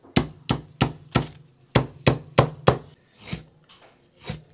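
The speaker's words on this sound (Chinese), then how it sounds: "切点葱姜" A knife chops scallion and ginger on a cutting board, about eight crisp, evenly spaced strikes up close, then two softer, slower chops.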